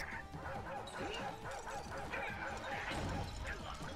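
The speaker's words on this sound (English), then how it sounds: "the chain chomps are just like what they are, but they just make like dog barking noises" Chain chomp creatures in Super Mario Odyssey give off dog-like barks and yips, a steady run of short yapping calls under game sounds and speech throughout.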